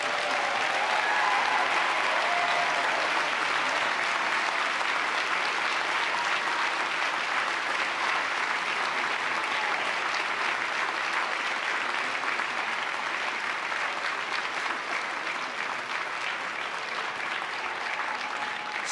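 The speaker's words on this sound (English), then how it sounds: "another round of applause for your amazing class" Sustained applause from a large commencement audience at Thomas Jefferson University, honoring the graduating class; dense, steady clapping holds at an even level for the full stretch with no pauses.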